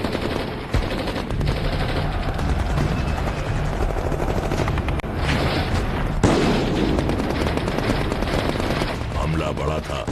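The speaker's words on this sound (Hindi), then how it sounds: "गोलियां चल रही हैं।" Dense, continuous battle gunfire with rapid automatic bursts, booms and a helicopter-like drone filling the scene, loud and chaotic throughout, with a voice speaking over it.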